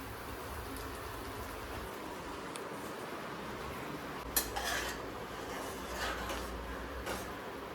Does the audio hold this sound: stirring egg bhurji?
yes